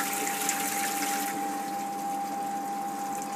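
Koi pond pump circulating water in a 10,000-litre pond, giving a steady, close rushing flow with a constant tonal hum underneath, no voices.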